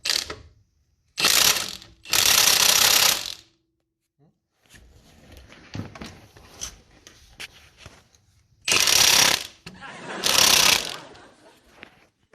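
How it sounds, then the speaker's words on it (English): Ratchet wrench removing an 18mm nut from the track bar mount on a Jeep YJ axle: four loud bursts of rapid clicking, two early and two late, with quieter clanking and handling noise between them. "we're going to take out this 18mm nut bolt."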